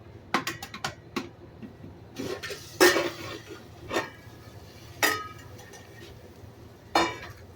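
A lid comes off a cooking pot with sharp metallic clanks and scrapes, and a series of separate clinks and knocks of cookware follow with short pauses between them, close and fairly clear.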